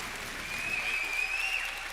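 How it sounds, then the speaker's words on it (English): Applause from the audience at a FIRST Tech Challenge robotics competition, a steady, fairly quiet wash of clapping with a thin whistle-like tone riding over it midway. "Let's give them a round of applause, everybody."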